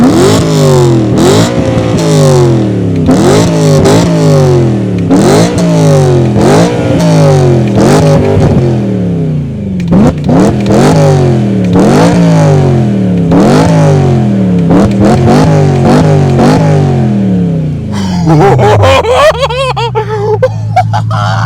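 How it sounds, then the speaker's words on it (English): A warmed-up BMW M3 engine revs repeatedly and loudly, each rising whine climbing then dropping back in quick succession, ending with a rough idle. "now that it's warm, let me give you some proper revs"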